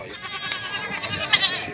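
Goats bleat at an early-morning goat market in Jataúba, Pernambuco, several overlapping cries rising near the end above a busy crowd murmur.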